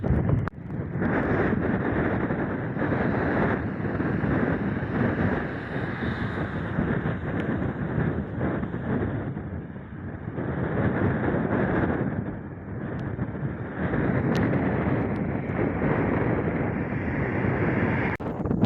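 Strong wind in a Chilean desert storm buffets the microphone in a continuous roaring rush, swelling and easing in gusts with no voices.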